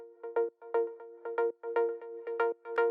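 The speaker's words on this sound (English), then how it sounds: "we have this other one that's a more rhythmic pluck" A bright synth pluck from an Afro house track plays in a syncopated, spaced-out pattern of short, punchy notes with clear gaps between them, alone and fairly loud.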